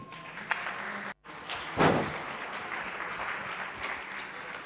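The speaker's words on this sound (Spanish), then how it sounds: "Por favor, un aplauso para él." An audience at a talk applauds steadily in a fairly faint, diffuse clatter of many hands, with a brief gap and a louder swell partway through.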